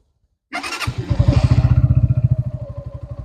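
A Barton Naked 125cc motorcycle engine cranks and catches, then settles into a steady, rapid putter with a bassy thump, loud and close.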